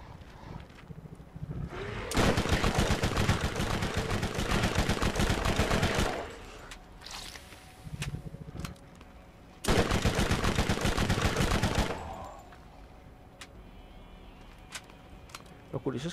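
Sustained machine gun fire in Borderlands Legendary Collection on Nintendo Switch in co-op mode, two long loud bursts of several seconds each separated by quieter game ambience, with brief voice sounds between.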